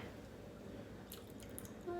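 Ingredients for homemade energy bars squished by hand inside a plastic bag, soft wet squelching and faint crinkles, quiet and close, with a brief clicking burst near the end.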